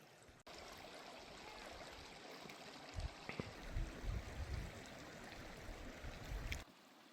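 A mountain stream flows through Balimik Valley near Skardu, a steady rushing babble that starts abruptly and runs on continuously, with a few louder low splashes and bumps partway through and no voices.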